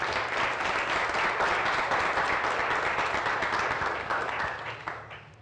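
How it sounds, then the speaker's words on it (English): An audience applauding at a runway show of local floral art, dense sustained clapping at a steady level that tapers off toward the end. "So please give her another round of applause."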